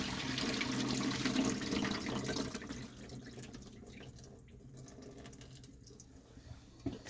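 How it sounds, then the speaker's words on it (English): Water pours from a pot of boiled potatoes into a sink, a steady rushing splash up close that gradually eases off. "Now we're going to drain it and then add our final water to boil it."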